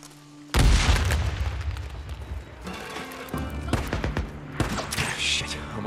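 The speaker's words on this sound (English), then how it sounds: "Throw the pipe bomb." A pipe bomb goes off in the video game Days Gone: a sudden loud blast followed by several seconds of rumbling debris, scattered gunfire bursts and further booms, close and dense.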